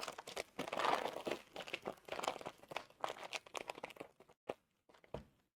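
Wrapping crinkles and crunches in bursts as Dungeness crab innards and shell are rolled up by hand, the rustling busy at first and then tapering into a few sparse crackles.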